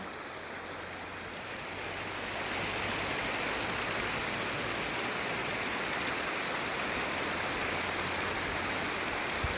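Water pouring like a waterfall near rural fields, a steady broadband rushing roar that swells after the first two seconds and then holds loud and constant, with no voices.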